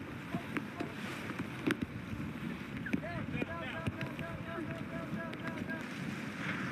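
A small quick response boat running on choppy water in unpredictable weather with wind rushing over the microphone, engine hum steady beneath occasional splashes and faint voices.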